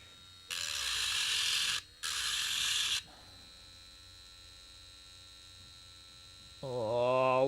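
Wet grinding machine working rough opal, two loud sustained bursts of close grinding over a steady mains hum, followed by quiet and then a rising motor whine near the end.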